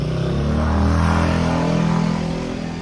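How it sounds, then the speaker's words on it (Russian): Loud motorcycles passing close by on a street near a hotel, a strong, rough engine roar that swells and then slowly fades as they move away, with no talk over it. "Какие шумные мотоциклы."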